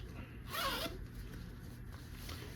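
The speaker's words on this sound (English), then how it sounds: "take your zipper pull and close your zipper" A zipper on a faux leather (vinyl) skirt is pulled closed in one quick, close zip lasting about half a second, followed by quiet handling noise.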